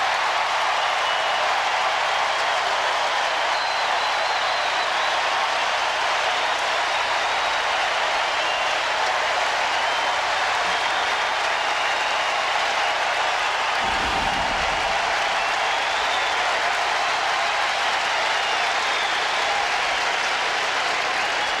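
Sustained applause from a large crowd at a US Open tennis match, a dense continuous wash of clapping filling the whole span, loud and steady with no break.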